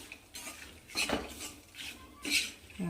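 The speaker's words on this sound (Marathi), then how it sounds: "गॅसवर असं मिक्स करत राहायचं आणि फिरवत राहायचं आहे" Metal spoon scraping and clinking against a pan on a gas stove while peanuts and garlic-coconut chutney ingredients are stirred and roasted, a few distinct scrapes and taps at close range over a quiet background.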